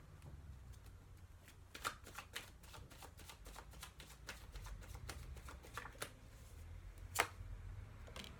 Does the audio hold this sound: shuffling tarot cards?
yes